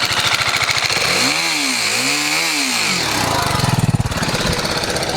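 A BMW 310 GS single-cylinder motorcycle engine runs close by with a rapid rattling knock, its pitch swelling and dipping as the throttle is blipped, then settling back to a steady clatter.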